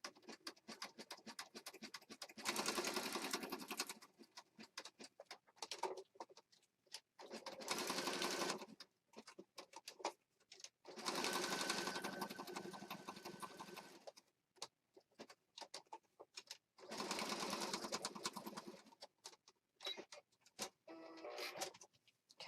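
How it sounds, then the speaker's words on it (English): A sewing machine stitches together junk journal paper pieces in four separate bursts of rapid whirring, close up, with quiet clicks and handling noises between runs. "I'm going to take this piece and go to the sewing machine and stitch this together"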